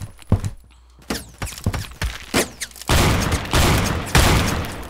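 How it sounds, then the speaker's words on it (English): Sharp gunshots crack out in the Roblox shooter Phantom Forces, first as scattered single reports and then as a loud, continuous volley of rapid fire in the second half. "someone came up and shot me to death"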